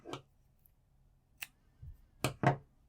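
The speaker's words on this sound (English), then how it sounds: "we're going to cut our yarn" A few sharp scissor snips cut crochet yarn after a round is finished. Short, close, quiet clicks fall irregularly against near-silence.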